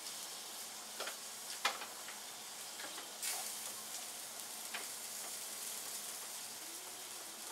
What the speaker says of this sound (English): These are just going to fry up in the oil